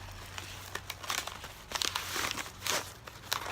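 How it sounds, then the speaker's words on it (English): A paper self-addressed envelope folded by hand, with several close, soft crinkling and creasing rustles in irregular bursts over a faint low hum. "This self-addressed envelope is going to be folded up and placed inside your envelope"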